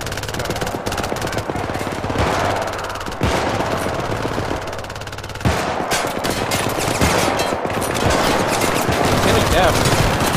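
Rapid automatic gunfire from a Syndicate co-op firefight rattles almost without pause, dense and loud, with sharper bursts and shots layered over a continuous game soundscape.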